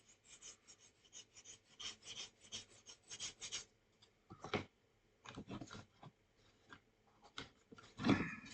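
Sandpaper rasps against the side of an aircraft canopy in short uneven bursts of scratchy rubbing, close and fairly quiet, with brief pauses between strokes and a sharper scrape near the end.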